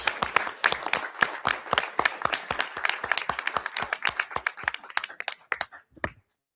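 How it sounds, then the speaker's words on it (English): Applause for students at a school board meeting: a room of hands clapping steadily, moderately loud and near, fading out after about six seconds. "How about another round of applause for all these great"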